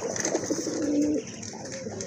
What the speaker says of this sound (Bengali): এখানে কিন্তু আরেক জোড়া কিউট কবুতর আছে